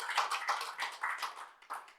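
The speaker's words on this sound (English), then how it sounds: "How about a clap of praise to the Lord?" An audience claps in praise at a church gathering, a quick run of rhythmic hand claps, about four per second, moderately loud and steady.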